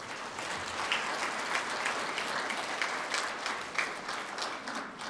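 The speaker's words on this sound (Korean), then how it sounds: "내빈을 한 분 한 분 소개해 드릴 때마다 박수로 환영해 주시면 고맙겠습니다" Ceremony audience at a Cheongsanri battle anniversary commemoration gives sustained applause, a thick continuous clapping with occasional louder individual claps standing out, steady and moderately close throughout.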